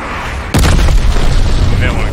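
An airstrike explosion in the Call of Duty Vanguard video game, a loud sudden boom after a half-second of quieter game noise, followed by a heavy rumbling low tail that lingers to the end.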